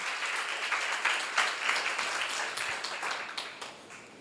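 Applause from a seminar audience, a steady patter of many hands clapping at moderate distance, fairly soft and continuous, with no talk.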